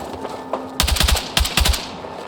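Automatic gunfire in the video game Battlefield 6: two loud, close bursts of rapid shots, each about half a second long, separated by a brief pause, with no talking.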